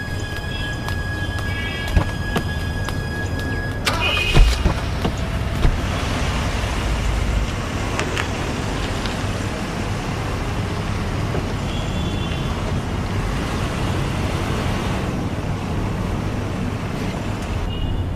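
A car on the road, engine and tyre rumble droning steadily for the whole stretch with a couple of brief knocks near the start, traffic-like noise and no talk.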